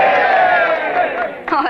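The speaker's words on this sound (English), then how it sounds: "A cheer for the little lady." A group of men gives a loud, sustained cheer for a lady in a town, a roaring shout that fades slightly before a brief final swell.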